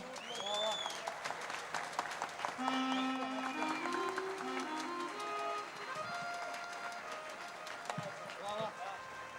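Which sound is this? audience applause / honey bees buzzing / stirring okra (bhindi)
audience applause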